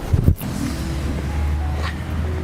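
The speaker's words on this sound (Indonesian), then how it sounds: "sekarang kamu mundurin mobil itu, kita berangkat." A car being reversed, its engine a low steady hum with light wind noise and a brief knock near the start, no one speaking.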